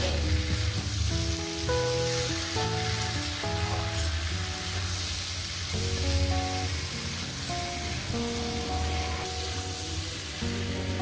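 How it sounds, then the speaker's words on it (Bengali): Masoor lentils frying in a pan give a steady, dense sizzle that runs the whole time, with a melodic tune playing over it. "মুসুর ডালটা দিয়ে দিলাম এটা মিনিমাম এক মিনিট একটু ভেজে নেবো"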